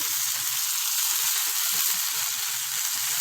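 Rice and lentils frying together in a pan, a steady close sizzle with broadband crackle throughout, plus occasional soft low clicks from stirring.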